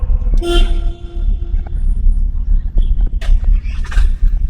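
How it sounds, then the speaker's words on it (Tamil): Car horn toots over a heavy engine rumble while driving: a long blare early, then shorter honks later amid steady road noise. "ஹார்ன் அடிங்க"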